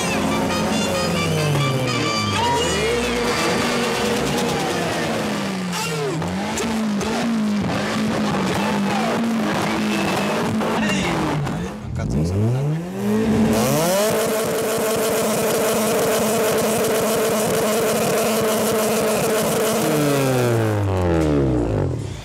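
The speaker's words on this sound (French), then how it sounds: "C'est la voiture de Sandrine qui envoie le plus de décibels." A tuned car engine is revved hard in an arena noise contest, wailing through repeated rising and falling revs, very loud and close. There is a brief dip in the middle, then it climbs back to a sustained high-pitched scream.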